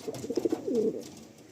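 A black Madrasi pigeon coos softly nearby, a quick series of short pulsing notes rolling into a longer throaty coo, faint against quiet background noise.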